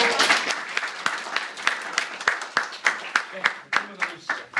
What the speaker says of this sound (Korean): 박수를 한번 치고